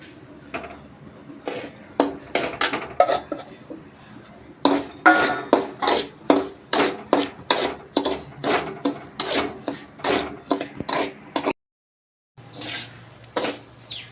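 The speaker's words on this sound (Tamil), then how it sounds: "முந்திரி வறுத்து எடுத்த நெய்யிலேயே நம்ம ரவையும் சேர்த்து வறுத்துக்கலாம்" Semolina roasting in ghee left over from frying cashews, stirred in a pan for rava laddu: a steady run of about twenty sharp, rhythmic scraping strokes, close and fairly loud, with a short silent gap near the end.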